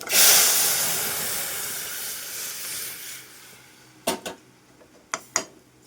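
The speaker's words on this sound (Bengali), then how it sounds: "পাঁচ ফোড়নটা এরকম একটু ফুটতে শুরু করলে ডালটা দিয়ে দিচ্ছি" Dal poured into hot oil with sizzling panch phoron and crushed ginger, a loud burst of hissing steam that slowly fades, followed by a few sharp clinks of a utensil against the pot.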